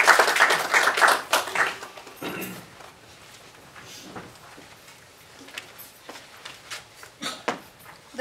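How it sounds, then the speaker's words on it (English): An audience claps for a premiere reading of a screenplay, bursts of applause at the start that thin into scattered, uneven claps and taps, with a few later flurries. "one more round of applause for the premiere reading"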